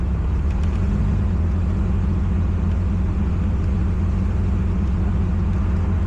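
A Toyota MKIV Supra engine converted to drive-by-wire runs up under revs, a dense continuous low drone at a loud, even level throughout, nearby and without speech.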